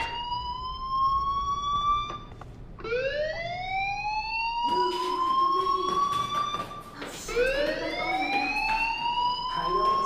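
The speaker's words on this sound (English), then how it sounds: "do you hear that fire alarm?" A fire alarm wails in Life is Strange: Before the Storm, with repeated rising siren sweeps and a few bursts of clattering noise, loud and continuous.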